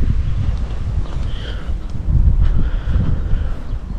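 Steady wind buffeting the microphone at a sandy river beach on a hot day, a loud low rumble that swells and eases in gusts with faint rustling, and no voices.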